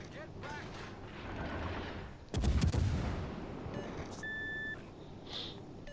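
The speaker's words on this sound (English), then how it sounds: "We'll get one more broadside shot at Iowa here." In the naval video game World of Warships Legends, a battleship fires a broadside at the Iowa: one heavy, booming salvo midway, set among softer game effects and electronic interface beeps.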